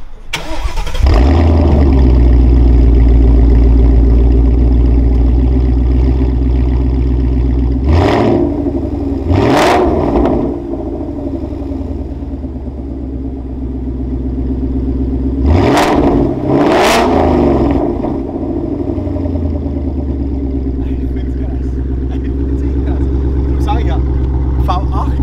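Ford Mustang engine idling loudly nearby with a deep steady rumble, punctuated by a few sharp revs in pairs, while people talk over it in German.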